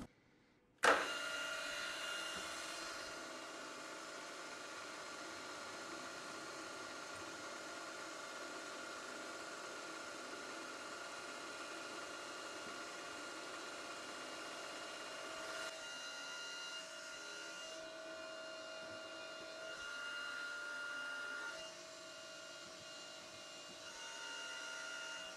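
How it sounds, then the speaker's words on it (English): A 2.2 millimetre high speed steel drill bores holes in stainless steel on a machine, a steady high whine and hum that runs for a long stretch, shifting in pitch slightly as each hole is cut. "Drill all the holes."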